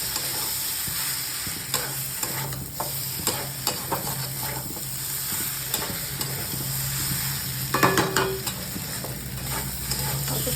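Paneer curry frying in a pan, a steady close sizzle with repeated scraping stirs of a spoon against the pan running throughout, and one louder clatter near the end.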